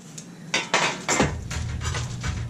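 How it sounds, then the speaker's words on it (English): A metal baking pan is handled in a home kitchen while making keto drop biscuits, giving several sharp clanks and rattles close by, followed by a softer continued clatter, with no talking. "I'm gonna grab my pan."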